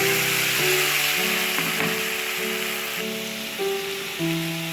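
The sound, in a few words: ground spice paste sizzling as it is added to hot ghee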